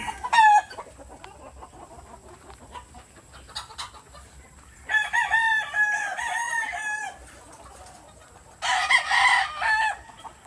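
Purebred Kelso chickens in a farm breeding pen: a rooster crows twice in long, loud calls, with short clucks and faint bird chatter in the quieter stretches between.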